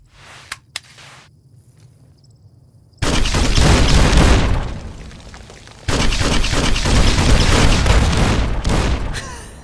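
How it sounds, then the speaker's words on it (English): The Mercy, a unique 40mm grenade launcher in Fallout: New Vegas, booms twice in loud, close, sustained bursts with roaring noise, after a few quiet clicks at the start. "This version's called Mercy. It's a unique variant that fires 40mm grenades"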